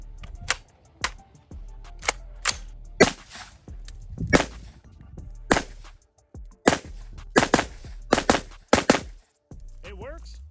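A PSA Sabre AR15 rifle fires single shots at an outdoor range while its optic is zeroed, sharp loud cracks at irregular intervals, some in quick pairs, with echoing tails between them.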